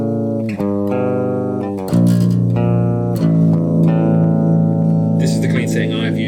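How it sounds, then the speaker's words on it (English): An electric guitar on the Line 6 POD 2.0 clean setting, with a clean, undistorted tone, rings out sustained notes and chords, played loud and close. "Now this is the line 6 clean setting."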